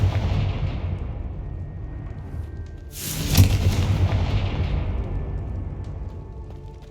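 Confringo spell explosion in the Hogwarts Legacy video game: a single sharp burst near the middle over a steady rumbling background, loud and close, then fading back into the ambient din.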